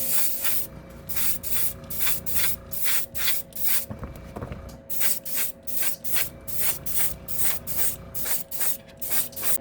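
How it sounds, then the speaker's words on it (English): A spray gun applies a final coat of paint to a Ford Transit van in regular repeated hissing bursts, each pass swelling and fading in an even rhythm, close and fairly loud. "Now we're gonna go ahead with one more final coat"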